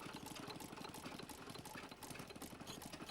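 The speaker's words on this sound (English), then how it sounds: "Another example of Ruston Hornsby engine, this time petrol engine." Ruston Hornsby petrol engine with open crank and hopper cooling runs steadily, a rapid, even mechanical chugging with rattling knocks, moderately close and continuous with no voices.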